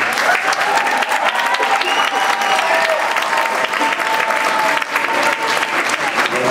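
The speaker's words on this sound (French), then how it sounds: "Je pense que vous pouvez l'applaudir." A large conference audience applauds a visiting mathematics speaker, steady dense clapping that stays loud and even throughout, with a few voices mixed faintly into the crowd.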